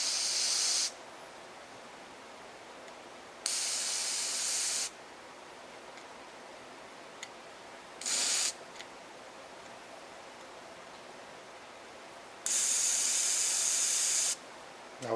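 Carb cleaner sprays in short aerosol bursts down the holes of an Echo string trimmer part, with several separate hissing blasts of one to two seconds each between quiet gaps.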